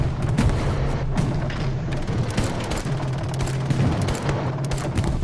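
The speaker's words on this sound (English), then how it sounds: "I killed three of them with my pistol" Pistol gunfire in a shooter video game, rapid repeated sharp shots over a steady low engine-like hum, loud and close with no talk.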